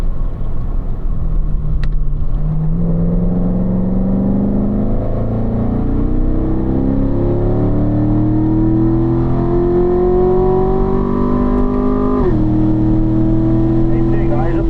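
Corvette accelerating around a racetrack, its engine note climbing steadily in pitch over a sustained loud drone, dropping briefly at a gear change and pulling up again, with an instructor's voice talking over it.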